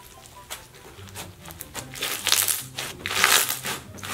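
Soft, wet squishing and crackling of slime being pressed and played with for ASMR, in irregular close-up squelches and pops that grow busier and louder toward the end, with no voices.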